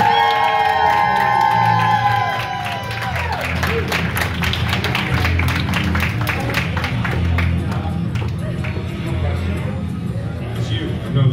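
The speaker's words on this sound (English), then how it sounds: "Everybody, give a big round of applause Lulu!" A loud crowd at a drag pageant applauds and cheers for Lulu, with continuous clapping, whoops and shouts sustained throughout, and a voice audible over the noise early on.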